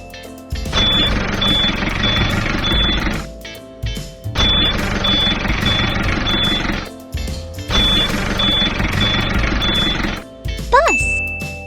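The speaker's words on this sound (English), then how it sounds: "Bulldozer." A bulldozer's reversing alarm sounds in three long stretches of steady beeping over a loud, rough diesel engine rumble, followed by a brief voice.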